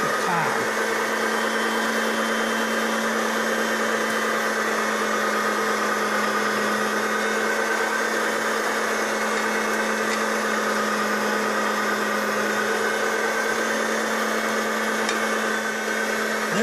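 Sausage meat run a second time through a grinding machine, a loud constant motor drone with a steady hum and even grinding whir, unbroken for the whole stretch.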